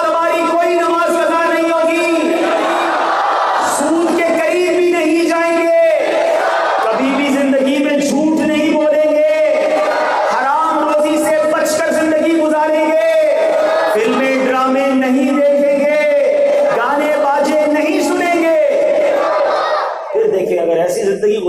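A large crowd at an Islamic sermon on the virtues of 27 Rajab chants religious slogans in loud unison, the call-and-response phrases repeating in a steady rhythm for the whole stretch.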